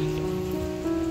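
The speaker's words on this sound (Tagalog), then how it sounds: "It's raining na talaga." Rain falls steadily on an outdoor pathway, a continuous patter on surfaces under a low steady hum.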